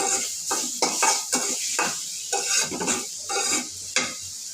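Spices are added one at a time to a frying pan and stirred, with a loud, steady sizzle under repeated scraping strokes of a spoon against the pan, close by.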